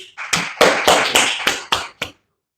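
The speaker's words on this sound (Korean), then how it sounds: "네, 박수 한번 쳐주세요." A lecture audience claps together in a steady rhythm, about eight loud, even claps in a row that then stop abruptly, leaving silence.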